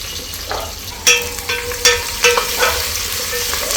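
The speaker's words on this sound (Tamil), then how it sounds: "இப்போ இதில் மூணு பெரிய வெங்காயம் நாலு பச்சை மிளகாய் நான் நீளமாக கட் பண்ணி சேர்த்துக்கிறேன்" Three large onions and four green chillies, cut into long slices, fry loudly in a pot of ghee rice base, a steady close hiss and sizzle broken by several sharp clanks of a stirring spoon, with no voices.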